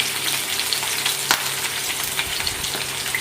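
Onion vada batter dropped into hot oil and deep-frying, a steady loud crackling sizzle with a sharp splash-like burst partway through and no talking.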